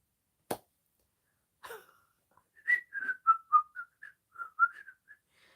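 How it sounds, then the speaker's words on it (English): A short, wavering whistled tune of quick notes, after a couple of sharp clicks, near and alone in otherwise quiet surroundings. "I can't whistle, sorry guys."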